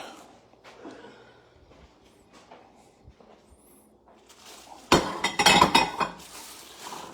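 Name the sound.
plates and dishes being handled in kitchen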